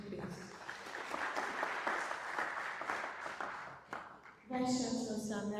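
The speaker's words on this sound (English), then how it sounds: "Another round of applause for him" An audience at an alumni mentoring event breaks into sustained applause, a dense patter of clapping that fades toward the end before a voice takes over.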